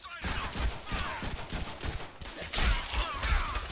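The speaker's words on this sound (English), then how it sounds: "Just walk behind me and shoot like that." Dense, rapid gunfire from the Deadpool video game rattles without a break, loud and close, with burst-like surges throughout.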